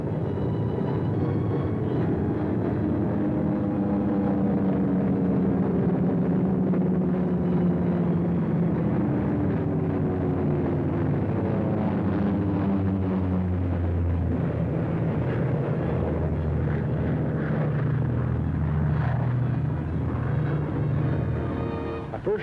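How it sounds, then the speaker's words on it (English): Bomber aircraft returning to an airfield in the Aleutians, a steady loud droning roar of engines that holds for the whole stretch with slowly shifting tones. "Bombers went out, and 6 are coming back."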